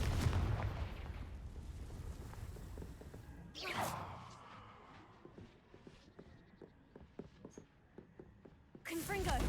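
Spell blasts from Confringo and Bombarda in Hogwarts Legacy, heavy booming impacts with rumbling debris and a sharp swell midway, recurring amid continuous game noise and footstep-like clatter, while a voice calls out spell names.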